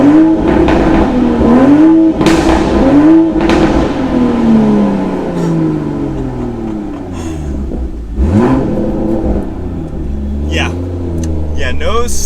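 A Toyota Supra MK5 with a full exhaust revs hard inside a tunnel, its engine rising and falling through several loud, echoing sweeps toward redline. Someone talks between the revs.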